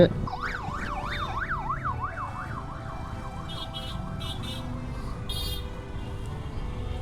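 A passing convoy's wailing siren sweeps up and down repeatedly, fading as it goes, over traffic noise and a faint background hum, followed by brief higher-pitched horn blasts.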